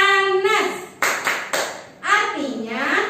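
Children clap their hands in the Tepuk Anas clapping chant during an Islamic religious education lesson, a few sharp claps in a short rhythm between sung, chanted children's voices.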